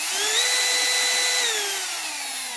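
A Milwaukee M12 cordless drill runs at full speed with a steady, close, high-pitched motor whine that dips slightly toward the end, heard alone with no talking.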